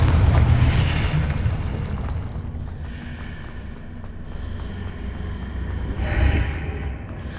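A Confringo blasting spell goes off in Hogwarts Legacy, a heavy booming blast with a rumbling tail that fades, then a second, smaller burst swells near the end.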